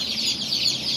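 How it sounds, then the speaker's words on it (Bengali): Brood of about eighty two-day-old chicks kept in a small pen, cheeping and peeping together in a steady, continuous high chatter, close and even in level, with no voices. "আর এই পাশে হচ্ছে আমাদের মুরগির বাচ্চা।"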